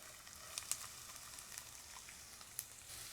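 Onions sizzling in oil in a pan: a soft, steady sizzle with scattered sharp little pops and crackles, fairly faint and alone, with no talk.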